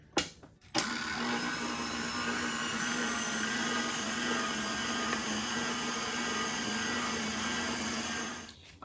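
Electric hand mixer whirring steadily through cake batter with vanilla and maple extract for a butter pecan cake, a loud continuous motor drone that starts after a brief clatter and runs evenly to the end, no voices.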